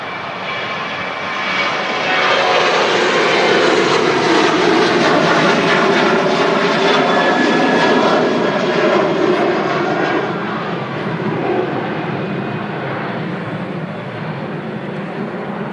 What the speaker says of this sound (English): We'll switch to the aircraft departing, which is a Ryanair 737.